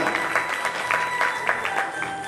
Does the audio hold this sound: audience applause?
yes